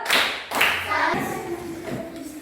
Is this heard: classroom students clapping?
yes